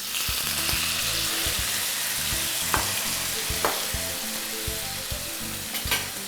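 Tomatoes dropped into a large quantity of hot oil for an Algerian tabrna tajine fry with a loud, steady sizzle, punctuated by the clatter of stirring against the pan throughout.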